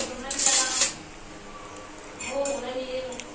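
A spoon stirs turmeric milk in a glass, giving a short burst of bright clinks near the start and lighter tapping later, close and fairly quiet.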